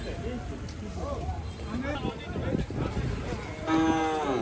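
A cow moos loudly at a rain-soaked cattle market in Gazipur, a long drawn-out low call near the end, with market chatter and voices bargaining throughout.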